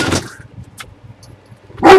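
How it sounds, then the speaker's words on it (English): A dog that wants to be let back in gives a couple of short, loud barks close by, with a pause between them and no talking. "No barking."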